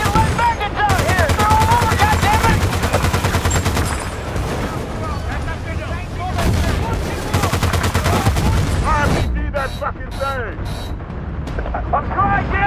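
Sustained suppressive gunfire in the war video game Battlefield: Bad Company 2, loud rapid automatic bursts and booming blasts rattling on nearly without pause, with shouted voices mixed in.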